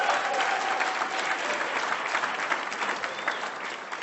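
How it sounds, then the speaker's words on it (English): An audience at the Fowler Business Concept Challenge applauds steadily, a dense wash of clapping that stays fairly even and sustained throughout, with no voices standing out above it. "By the way, you clapped too soon."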